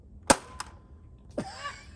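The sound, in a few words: Nerf Rival Curve Shot Helix blaster firing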